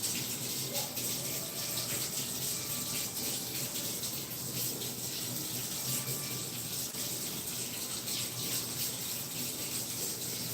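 Hot water runs steadily from a household kitchen tap into a sink, a continuous broadband hiss and splash that stays fairly close and even throughout, with no talking over it.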